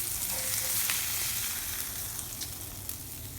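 Steak searing in a hot pan near the end of a reverse sear, giving a steady close sizzle and frying hiss that carries through the whole stretch, with a few faint crackles and no voices.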